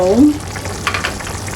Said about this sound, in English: So I'm going to stir this one.